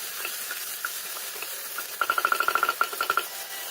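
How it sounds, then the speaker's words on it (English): Tomato frying in a pan with ginger garlic paste, a steady soft sizzle with a quick run of stirring taps and scrapes toward the end, close and alone. "Next goes in the tomato. Fry the tomato well."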